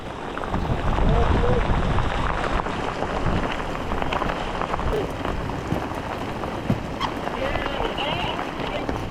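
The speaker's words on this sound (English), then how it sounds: "It's raining too hard." Heavy rain pounds down on a fishing boat on a Canadian lake during a thunderstorm, a dense, steady roar of drops drumming on the hull and water for the whole stretch, close and loud.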